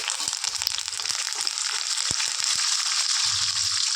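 Curry leaves crackle in hot oil while upma tempering fries, a broad steady hiss with scattered sharp pops and a few low thuds, close and continuous with no talking.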